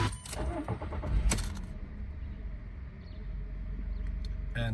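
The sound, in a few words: Volkswagen Polo Vivo car engine starting and idling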